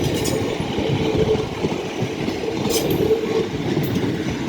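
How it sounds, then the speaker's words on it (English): An East Midlands Railway regional diesel train pulling out of Manchester Piccadilly: a steady low engine rumble and rolling noise, loud and continuous, with faint high squeals from the wheels. "there is an EMA regional up there that's now departing"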